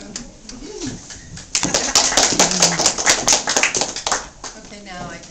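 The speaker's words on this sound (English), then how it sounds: "I was just waiting for the applause." Audience applause at a Litquake literary event, a burst of clapping that starts abruptly and carries on steadily for several seconds at moderate loudness, with a quieter murmur of the room before it.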